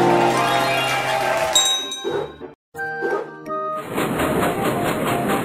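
Bright chiming dings and clanging jingles sound as a train arrives in a toddler circus video game, loud and electronic with a short gap, then a sustained tinkling tone.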